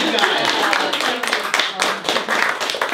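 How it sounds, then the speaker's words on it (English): Applause from a small audience in a living room after a band plays, a close, lively patter of clapping hands with voices mixed in. "Round of applause for you guys"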